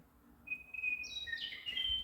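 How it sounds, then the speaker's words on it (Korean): Birdsong played through a computer's speakers: a few thin, high whistled chirps rise and trill over about two seconds against a quiet background. "이 새소리는 제가 컴퓨터에서 들리게 해놓은 거예요"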